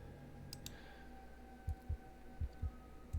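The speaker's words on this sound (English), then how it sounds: "All you hear is that rhythmic thump of your own heartbeat." A heartbeat sound effect plays in a tabletop role-playing game session, with soft, rhythmic low thumps in pairs over a faint hum and no talking.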